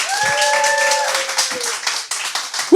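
An audience at a music performance gives a brief round of clapping for a guest singer, with a high whistle or whoop rising over the start before the applause thins out.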